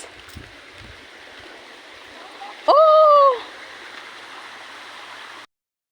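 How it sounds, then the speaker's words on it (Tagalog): Steady, broad rushing of falling water at a waterfall fills the scene, with a short voiced exclamation rising above it midway. "Narinig ko na ang lagaslas ng tubig."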